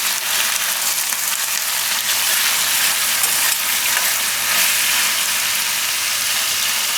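Spinach and eggplant curry (palak ringna shaak) sizzles steadily in a pan, a close, even frying hiss with no break and no voices.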